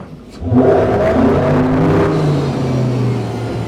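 A Centurion Fi23 boat's motor revs up and surges into a steady, loud whirring drone as the boat accelerates on the water, the pitch rising and then holding.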